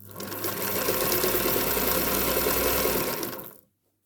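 A Singer Featherweight sewing machine runs at steady speed, a close, continuous whirring hum with fast mechanical clatter that stops abruptly after a few seconds.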